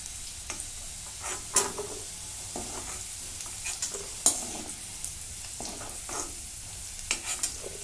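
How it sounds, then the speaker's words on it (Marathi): Mixed vegetables such as green beans, carrots and cauliflower fry in hot oil in a pan, a continuous loud sizzle broken by scattered scraping stirs and clinks. "आता हे तळून घेऊ भाजी"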